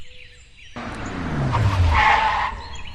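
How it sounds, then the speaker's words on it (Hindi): A cartoon car arrives in a Hindi animated story, rising from a faint start to a loud skidding rush with tyre squeal, then tapering off. No one speaks. "ये मैनेजर साहब की गाड़ी इतनी जल्दी क्यों आई है?"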